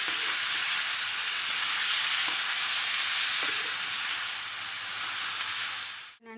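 Three large chopped tomatoes frying in oil in a pan: a steady, loud, even sizzle and hiss with faint stirring scrapes, ending abruptly.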